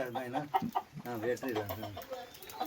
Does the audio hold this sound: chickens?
yes